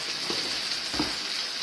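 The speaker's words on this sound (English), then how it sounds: "Have to have a little bit of frying, a little bit of browning" Chicken frying and browning in a hot pan gives a steady, close, loud sizzle with a few brief crackling pops and no voices.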